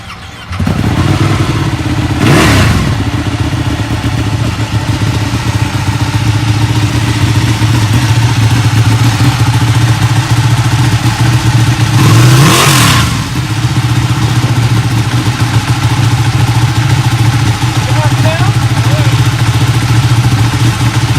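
A 2017 Ducati Panigale 1299 L-twin motorcycle engine fires up and settles into a deep, steady loud rumble, with two sharp revs of the throttle along the way.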